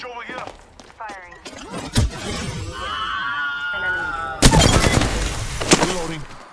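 Gunfire from weapons in the Apex Legends battle royale game, bursts of sharp shots and a loud shattering crash over steady game noise, with someone talking over parts of it.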